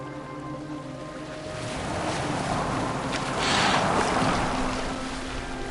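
A Viking longship in Assassin's Creed Valhalla glides over open water, with a broad steady wash of waves and wind that swells in the middle, along with a low continuous hum.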